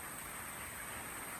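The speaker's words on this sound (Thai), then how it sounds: "ฝนตกทุกคน" Steady rain falls in a continuous broadband hiss with no distinct drops or voices, a fairly faint, even wash of sound throughout.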